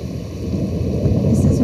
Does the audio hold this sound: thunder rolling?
yes